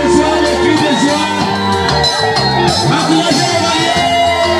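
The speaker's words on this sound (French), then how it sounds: "Vous savez les cris de joie, les cris de joie." Guests at a religious wedding ceremony shout and whoop for joy together, a loud, dense, continuous wall of crowd voices close by.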